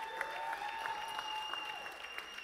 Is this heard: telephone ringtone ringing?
no